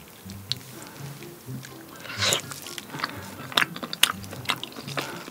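Close-up chewing of spicy beef tendon served with rice balls, mayonnaise and enoki mushrooms: soft squishy bites and a few crisp crunches, with low voices murmuring underneath.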